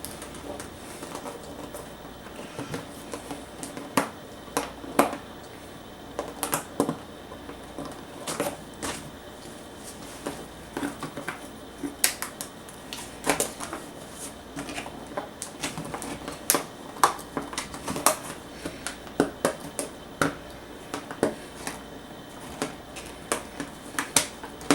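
Scissors cutting through a thin plastic backsplash panel, a scattered series of sharp snips and crisp clicks at an irregular pace, close by and fairly quiet.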